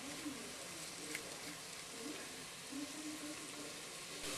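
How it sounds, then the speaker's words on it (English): Onion sautéing in unsalted butter in a pan for beef and cabbage soup, a steady soft sizzle and hiss running unbroken throughout, close but quiet, with faint voice-like traces underneath. "I'm going to saute the onion for a few minutes"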